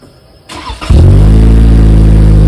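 A Toyota Corolla Hatchback automatic with a quad-tip cat-back exhaust starts up and settles into a loud, deep, rumbling idle with a throaty exhaust tone, close by.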